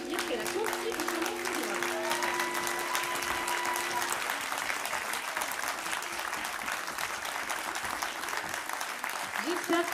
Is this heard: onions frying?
no